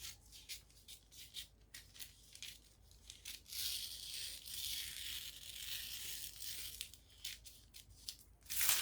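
Scissors cut through a paper sewing pattern for a short skirt, a quiet close series of crisp snips and rustles with a longer tearing slide in the middle.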